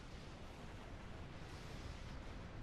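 Rumbling explosions boom continuously in a Star Trek Online space battle, a dense, loud roar of blasts filling the moment with no talk over it.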